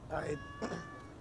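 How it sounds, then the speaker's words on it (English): A cat meows in a short, rising and falling call, fairly close, with a second brief meow after it, heard amid outdoor chatter at a street arts gathering. "Is that your cat on the back?"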